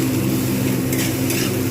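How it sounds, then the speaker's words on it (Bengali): Spiced taro greens with prawns being stirred in a pan over lowered heat, a continuous sizzle with a low hum and a couple of faint scraping stirs near the end. "আঁচটা কমিয়ে আমি কিন্তু এটা নাড়ছি।"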